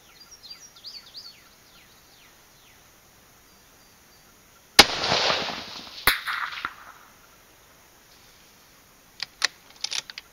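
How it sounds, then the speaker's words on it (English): A .243 rifle fires at a steel plate rack 400 yards away outdoors: two sharp, loud cracks about a second apart, each with a brief ringing tail, then scattered faint ticks. Birds chirp softly beforehand. "I'll just shoot 10 rounds."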